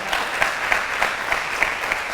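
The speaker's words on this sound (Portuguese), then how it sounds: "dá um aplauso ao Senhor aí, mais forte aí para animar" Church congregation clapping during a sermon, a dense wash of many hands with a few louder claps standing out, moderately loud and even throughout.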